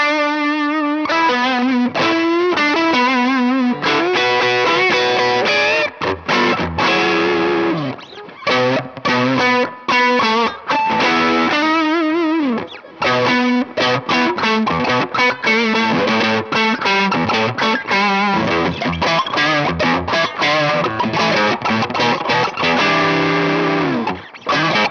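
An electric guitar plays through a TC Electronic Combo Deluxe 65 amp with a BOSS SD-1 overdrive, giving a compressed, high-gain tone. Chords and riffs ring out loud and continuous for the whole stretch, with no voices.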